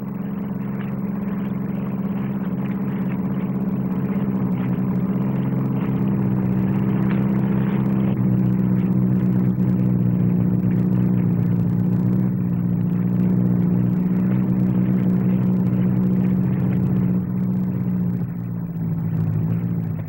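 A 4-ton hovercraft skims just above a runway at the 1959 Farnborough air display, its engines giving off a steady, loud droning hum with layered tones that holds without a break for about twenty seconds.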